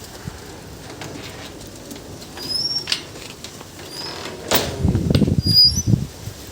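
Beldanga pigeons, including a reddish feathered one, give scattered soft sounds, then a burst of close wing flapping and shuffling near the end, with no talking.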